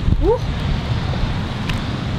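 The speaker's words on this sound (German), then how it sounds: "Achtung, Wind." Strong outdoor wind buffets the microphone throughout, a steady low roar with gusty swells, and a brief voice-like chirp rises early on.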